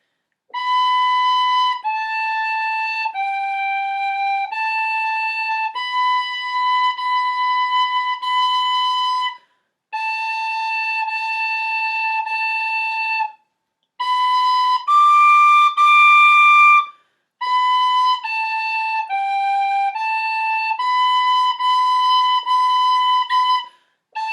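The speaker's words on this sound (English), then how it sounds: "So now you can play your first song on the tin whistle." An Irish tin whistle plays a slow, simple beginner's tune as a sequence of clear, sustained single notes, with short pauses between phrases and no talking.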